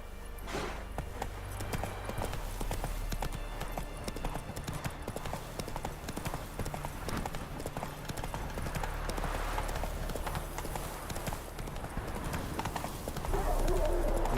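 Hooves of Roach, Geralt's horse in The Witcher 3: Wild Hunt, in a steady rhythmic clip-clop at a trot, joined by game music and occasional speech.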